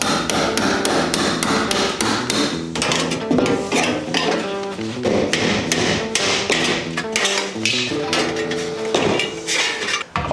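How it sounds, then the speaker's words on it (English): Rapid, evenly spaced metallic striking goes on throughout as a chisel works old glue off an interior wall during an old house renovation, each hit sharp and ringing, close and loud. "So I'm just going to go through with my chisel and get all of this glue off"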